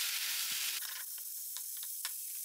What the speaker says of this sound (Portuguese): Nessa parte aqui a gente só precisa dourar a carne,